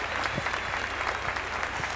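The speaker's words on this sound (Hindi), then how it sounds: "प्लीज जोरदार तालियां हो जाए" A crowd at a dance competition grand finale in Seppa, Arunachal Pradesh, claps steadily in loud, sustained applause that fills the whole moment without a break.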